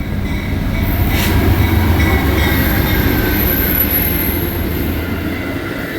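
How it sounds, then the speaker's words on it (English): A loud train rumbles past a truck stop in Ashland, Virginia, heavy low roar with a faint high wheel squeal, sustained throughout. "Train going by."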